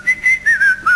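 A person whistles a short run of bright, wavering notes in quick bursts, close and loud, with no talk.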